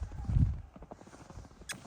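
A mare's hooves strike the ground outdoors in a short series of close, uneven thuds and clops, with a heavier knock at the start.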